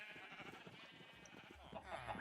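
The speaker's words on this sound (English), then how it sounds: "So this is just a bunch of sheep above a wheat farm here." Sheep bleat faintly in the Minecraft video game, a flock floating above a wheat farm; soft, distant calls sit within a low, busy background hum with no clear voice.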